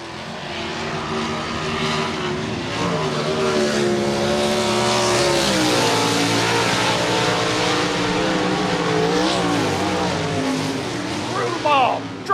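Dirt track race car driven hard into a corner on the high side, its engine roaring loud and close with a steady, sustained drone that rises and shifts pitch throughout.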